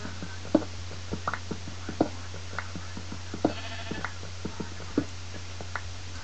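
Sheep bleat a few times in Minecraft, distant and thin, over a constant low drone and a light scatter of clicks and taps.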